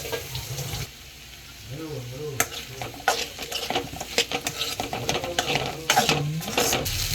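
Shredded cabbage hits potatoes and onions sizzling in a frying pan for samosa filling, giving quiet hissing, then stirring scrapes and clatters that come and go over steady frying noise.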